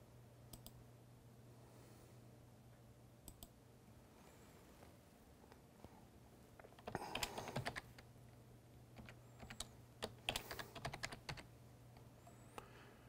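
Someone types on a computer keyboard while setting up user accounts, producing quiet, sporadic key clicks with a denser flurry midway, all over a low steady electrical hum.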